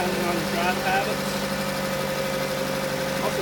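Idling 2015 Dodge Dart SXT sedan with a 2.4-liter MultiAir four-cylinder engine, a steady close rumble with a faint rhythmic pulse, a voice talking over it.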